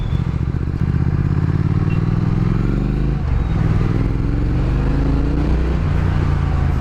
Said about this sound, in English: it's a monster 1200cc twin cylinder engine